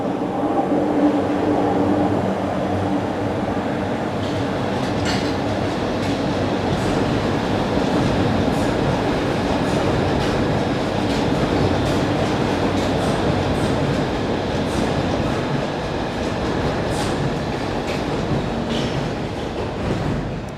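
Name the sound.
underground train arriving at platform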